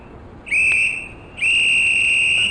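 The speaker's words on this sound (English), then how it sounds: "all we need to do is wait for the guard's whistle" A guard's whistle sounds in a train simulator game before departure: a short shrill blast, a brief pause, then a longer sustained blast, clear and close over a quiet background.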